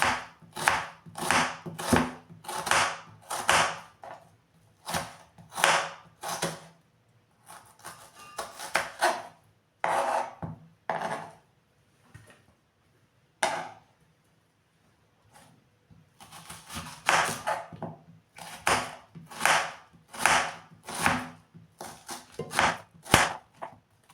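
Knife chopping peeled onions on a wooden cutting board, a quick run of sharp rhythmic knocks in bursts with pauses between, close and fairly loud, no talking.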